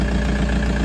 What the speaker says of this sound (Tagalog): pakinggan nyo yung tunog na makina mga boss